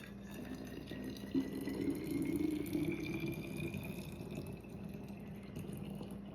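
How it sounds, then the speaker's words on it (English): Homemade brown sugar syrup poured from a measuring cup into a small jar, a soft steady trickling stream for a couple of seconds over a low background hum, close and quiet. "And then I'm gonna take it and pour it into my little jar here that I have."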